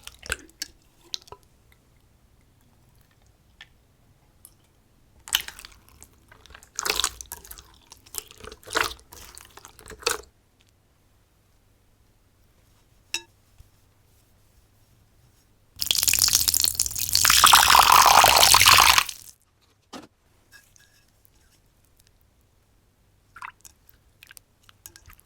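Scattered wet squishing and sticky clicks from pigmented clear slime, then a loud dense burst of squelching for a few seconds before quieter pokes resume.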